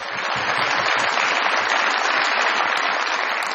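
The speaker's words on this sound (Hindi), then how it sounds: "बहुत सारी तालियां जनाब असद रऊफ साहब के लिए थी" A studio audience at a Pakistani comedy show claps for Asad Rauf in a short, dense, even burst of applause.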